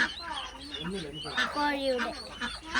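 A native chicken clucks on a farm in a series of short calls at close range, with other fowl faintly around it.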